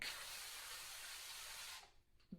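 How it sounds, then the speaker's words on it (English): Olive oil cooking spray hisses continuously onto the bottom of a pan for nearly two seconds, then cuts off, followed by a faint knock. "we're gonna spray the bottom of this pan"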